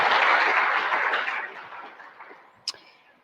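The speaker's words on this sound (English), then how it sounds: "Let's have a little applause for her." Brief audience applause for a panelist joining the stage at a money and finance panel, a full burst of clapping that fades within about two seconds, followed by a single sharp tap.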